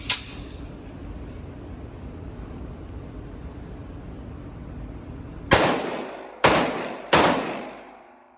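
Three loud pistol shots from a Desert Eagle crack out in quick succession near the end, each with a booming echoing tail, after several seconds of steady background noise.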